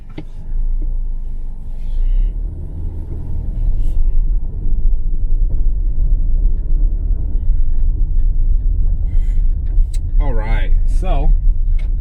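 A 2021 Ford Explorer Limited 4WD pulls out onto the road, its low engine and road rumble building steadily inside the cabin, with a person talking briefly near the end.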